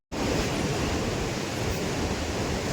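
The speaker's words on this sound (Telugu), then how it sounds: "ముందు రివర్ వాటర్ ఫాల్" A river waterfall near Kedarnath pours beneath a bridge, a loud, continuous broadband rush of water that begins abruptly and holds steady, with no voices.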